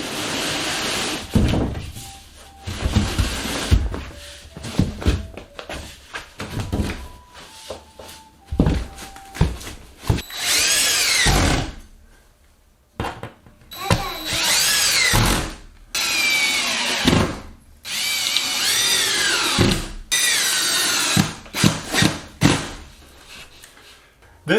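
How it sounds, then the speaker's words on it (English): Power drill driving screws into a wall seam during a home renovation, several loud whirring bursts of varying length separated by short pauses, with speech in between. "This seam was a little tough to screw up to the wall"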